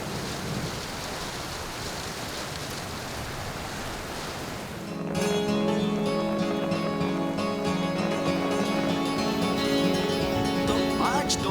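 A steady hiss of rain falls for several seconds before music with sustained tones comes in over the continuing downpour.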